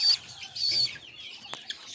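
A hen beside a pigeon's nest gives a few short, close clucks in quick bursts, with faint rustling between them.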